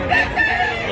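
A rooster, a three-year-old gamecock in Mantalongon, Barili, Cebu, crows loudly and close by in a single sustained call that fills the whole moment, with faint background murmur.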